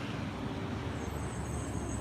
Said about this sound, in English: That is a garbage truck.